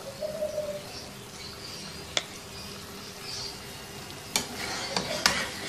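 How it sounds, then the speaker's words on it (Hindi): Spoon stirring tomatoes into a mutton karahi over high heat gives a few sharp scraping clicks against the pot over a quiet, faintly sizzling background, with no talking. "अब इसको अच्छी तरह से मिक्स करना है कि ये जो टमाटर हैं ये इसमें घुल जाएं"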